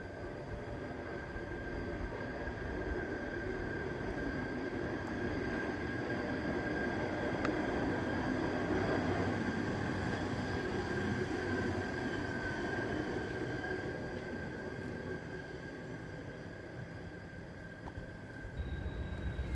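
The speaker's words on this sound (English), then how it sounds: "An NS high rail truck heads down the curve on Main 3." Norfolk Southern high rail truck rolling along the rails through Horseshoe Curve on Main 3, a faint steady rumble of wheels with a thin sustained squeal, distant and constant throughout.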